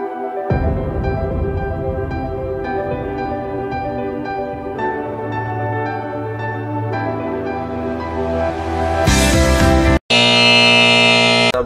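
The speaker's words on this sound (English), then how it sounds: "the buzzer will also beep to alert the user" A loud electronic buzzer on a PLC-based water tank monitoring system sounds steadily over a mechanical hum, rising into harsh continuous beeping near the end with a brief cutoff.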